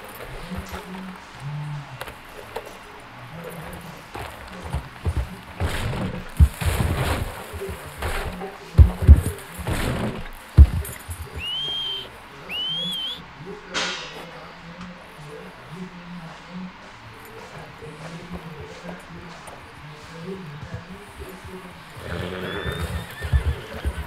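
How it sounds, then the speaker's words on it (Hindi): A horse in the Red Dead Redemption 2 video game whinnies and snorts several times, with heavy thuds from kicking and hoof clatter mixed in, set against background game ambience and no talk. "ओह, घोड़े ने लात मारी."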